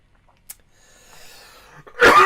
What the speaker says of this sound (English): Excuse me, coughing away.